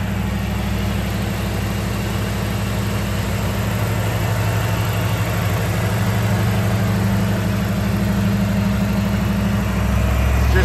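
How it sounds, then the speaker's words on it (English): A 1987 Chevrolet Camaro IROC Z28 with fuel injection idles steadily and close, its low, even engine rumble holding unbroken for the whole stretch with no voices. "Car sounds great."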